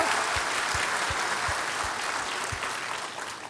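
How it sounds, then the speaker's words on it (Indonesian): Church congregation applauding in a dense, steady wave of clapping that fills the room, fairly loud and continuous, with no talk over it. "Sekali lagi kita berikan tepuk tangan lebih keras lagi"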